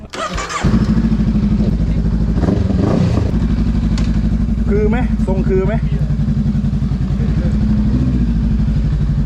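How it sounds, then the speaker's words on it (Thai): A Honda Rebel 500 motorcycle engine starts and settles into a steady, loud, throbbing idle close by, while people talk over it. "นะครับรีเบล 500 ของ Honda"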